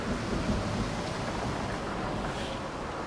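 A thunderstorm at sea in the VR game Table of Tales: The Crooked Crown: a steady, dense roar of rain and rolling thunder fills the whole stretch with no break.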